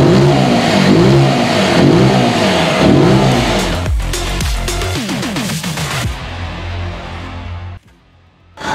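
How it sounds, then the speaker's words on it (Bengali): A Zontes GK155 scrambler motorcycle with a titanium underbelly exhaust revs hard several times up close, its engine note climbing and falling before settling to idle and cutting off near the end. "তো এবার আপনাদেরকে আমি বাইকটার সাউন্ডটা একটু শোনাচ্ছি।"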